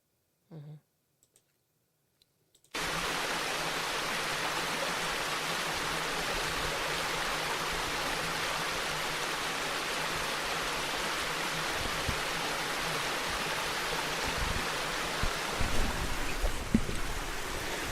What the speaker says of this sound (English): when the water runs down off the flat rocks, on the far wall